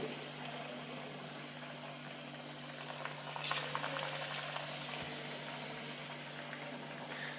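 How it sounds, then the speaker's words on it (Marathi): Potato slices coated in thick gram flour batter frying in hot oil for bhaji fritters, a steady low bubbling sizzle with a brief louder flare midway, faint and continuous, no voices. "एक एक चकती अशी बुडवून घेऊयात आपण ह्या पिठामध्ये घोळवून घ्यायची अशी छानपैकी कोट करून घ्यायची आणि तेलामध्ये सोडून घ्यायची"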